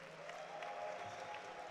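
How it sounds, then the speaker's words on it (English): Applause for the evening's winner and high-point scorer at a live event, a steady crowd clapping wash that holds at moderate level throughout, with no voices standing out. "how about a round of applause for our current high point and winner from tonight, Mr. Stefano Gisolfi."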